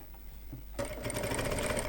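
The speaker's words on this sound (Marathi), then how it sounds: "त्यानंतर खालून अर्धा इंच स्टार्टिंगला शिलाई लॉक करायची." A sewing machine stitching blouse fabric, locking the seam at the start, kicks in after a brief quiet moment with a fast, steady whirring hum that stays close and even to the end.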